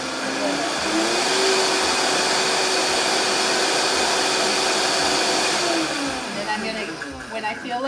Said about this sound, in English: start my Vitamixer on 1 so it doesn't scare me when I turn it on.